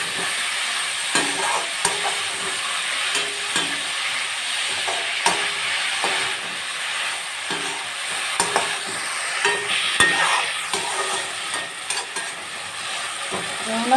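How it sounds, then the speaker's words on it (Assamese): Fish curry with spices being stirred in a hot frying pan: a steady, close sizzle runs throughout, broken by repeated sharp clicks and scrapes of the spatula against the pan, with no talking. "ভালকৈ মই লৰাই দিম মছলাৰ লগত"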